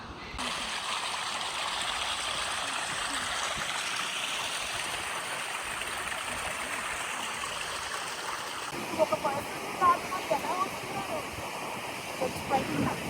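The Grey Mare's Tail waterfall heard from a high path above the falls: a steady broadband rush of flowing water, moderate and continuous, with some handling bumps near the end.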